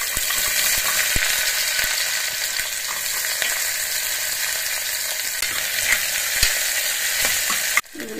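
Onion pieces fry in hot oil with salt and mustard seeds, giving a steady, close crackling sizzle with scattered sharp pops, a stir or clatter near the end, and no talk.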